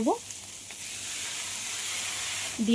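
Bitter gourd and potatoes fry with a blended spice paste in a pan, giving a steady, even sizzle and hiss throughout, with brief faint sounds at the start and end.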